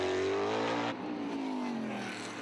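Formula 5000 race car with a Chevy-powered engine at speed on the track, a loud high engine whine rising then dropping as it shifts and passes close by.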